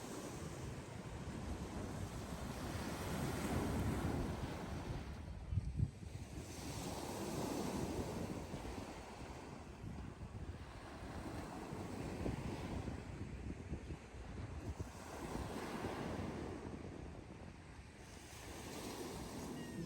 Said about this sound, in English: Another beautiful day on the beach.